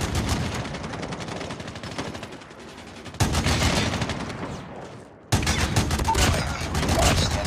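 A sentry gun in Call of Duty Mobile fires rapid, sustained automatic bursts, loud and dense, broken by a couple of brief pauses between volleys.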